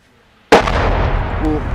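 After near silence, an artillery shell lands and explodes in a single loud boom, then rumbles and decays with a long reverberant tail, during shelling at Pisky, Ukraine.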